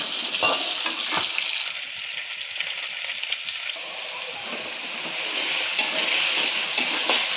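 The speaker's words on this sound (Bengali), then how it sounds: "পাশে কড়াইতে আলু আর বেগুন, আলু আর কুমড়ো বড়িগুলো সুন্দর করে ভেজে পেঁয়াজ দিয়ে দেবো এর সাথেই।" Potatoes, eggplant, pumpkin and lentil dumplings frying in a wok, a continuous hissing sizzle that swells slightly toward the end, with faint scraping of stirring and no speech.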